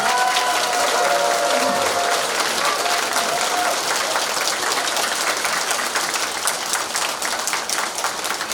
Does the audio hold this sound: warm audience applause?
yes